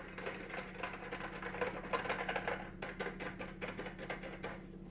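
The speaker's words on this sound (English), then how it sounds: "So the keyboard sounds good, it looks good, and it almost feels good" Rapid clattering keystrokes on a Commodore 64 keyboard, a close, dense run of plastic clicks in uneven bursts with a faint steady hum underneath.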